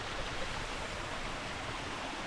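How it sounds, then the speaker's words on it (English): A small mountain stream running at low flow over mossy rocks, with some ice on it, gives a steady, close, even rushing wash of water that never varies. "Pretty low flow right now, but there is some ice on it too."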